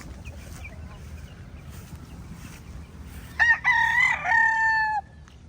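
Gamefowl roosters crow on a Filipino game farm, one loud nearby crow standing out late in the clip over a steady low outdoor rumble, with faint clucks and distant calls earlier.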